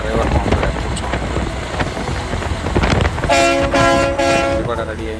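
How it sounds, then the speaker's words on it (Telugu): A Mount Washington mountain railway train pulls away on a summit stop, a steady rumble with a train horn sounding several sustained notes midway, people talking nearby. "సో మళ్ళీ 3వ ట్రైన్ కూడా కిందకి వెళ్ళడానికి రెడీగా ఉంది"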